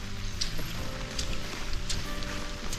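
Rain falling on plants in a field, a dense steady patter with occasional sharper drops, moderately quiet and continuous throughout.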